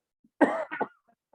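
A single harsh cough, close and fairly loud, breaking into two or three rough bursts before trailing off into quiet.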